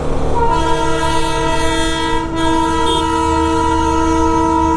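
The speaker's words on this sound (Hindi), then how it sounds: "Yes, we have caught up to the toy train." Darjeeling's narrow-gauge toy train passing near a road crossing, its horn sounding a long, steady, loud blare over the rumble of the moving train, with no talk.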